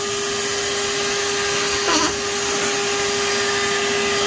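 Steady, loud drone of a vacuum cleaner sucking stink bugs off a leaf, holding an even whine throughout with a brief change in pitch near the middle as something is drawn in.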